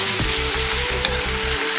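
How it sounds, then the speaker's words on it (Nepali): Vegetables for chicken chow mein stir-frying in a hot pan, a steady close sizzle with regular scraping stir strokes of a utensil throughout. "यसलाई एकछिन चलाएर हामी अफ गरिदिन्छौँ, छोडिदिन्छौँ।"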